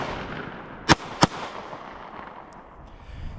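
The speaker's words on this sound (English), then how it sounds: "I will shoot a couple times." Two sharp, loud shots from a Glock 43X MOS pistol fired at an outdoor range, spaced about a third of a second apart, with ambient noise continuing afterward and no talking.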